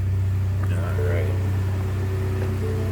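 2017 Ford F-150 SuperCrew XLT 4x4 with a stock engine idling, a steady low rumble heard up close, with faint talk and small noises over it.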